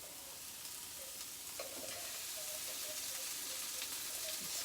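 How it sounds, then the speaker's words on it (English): Big prawns sizzle in a hot pan, a steady, fairly quiet hiss of frying that holds evenly throughout with faint scraping movement underneath. "we're going to start putting those prawns in the pan"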